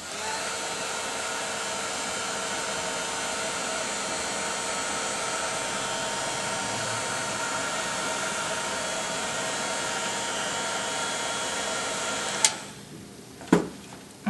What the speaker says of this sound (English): I'm going to use the heat tool to speed up the drying time.